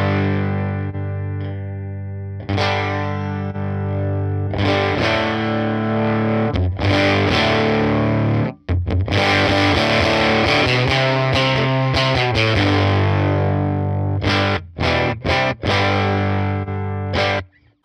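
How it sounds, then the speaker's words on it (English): Electric guitar played through a UAFX Woodrow amp pedal with an EP3 tape echo preamp boost, thick, warm and driven, with chords and single notes ringing loudly, slight chorus-like shimmer and brief pauses between phrases. "This is a preamp from an EP3 tape echo. It's thick and warm with plenty of additional gain."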